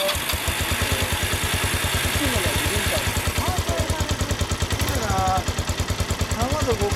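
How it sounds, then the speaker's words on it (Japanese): A 2009 Kawasaki Estrella 250 café racer motorcycle idles nearby with a steady, even run of low thumping pulses, while voices murmur faintly over it. "エンジン音聞かせてもらえますか？"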